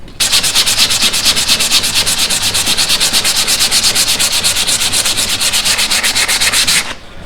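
Stained wood is sanded by hand with 80-grit sandpaper in quick, rhythmic back-and-forth strokes, a loud close scratching that runs steadily for about seven seconds and then stops.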